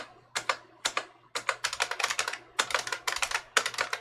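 Keys pressed on a computer keyboard during a makeshift, janky PC build, a steady run of crisp, close clacks in quick bursts with brief pauses, no talking.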